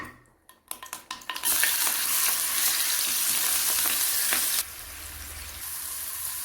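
Chicken frying in hot coconut oil, a loud steady sizzle that bursts in after a few clattering pan knocks, then eases slightly toward the end.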